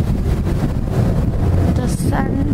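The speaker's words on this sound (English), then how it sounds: "It's windy." Steady low rumbling wind buffets the microphone throughout, with a voice talking faintly underneath.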